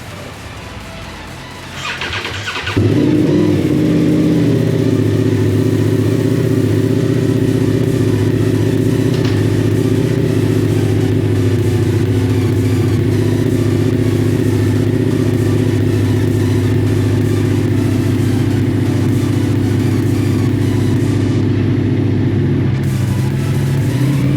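A vehicle pulls away and keeps driving, carrying a loaded Ducati Multistrada motorcycle strapped down after a wheel bearing failure; a steady, loud low engine drone and road rumble hold for over twenty seconds after a brief start-up.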